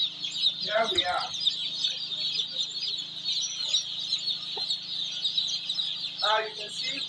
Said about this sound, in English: Now this is the brooder house. You can see the birds are okay.